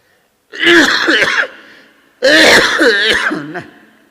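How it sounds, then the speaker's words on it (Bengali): A man coughs hard in two loud, close bursts, each a rough, strained fit of coughing with a short quiet gap between. "স্বাভাবিক হচ্ছে না কাশি"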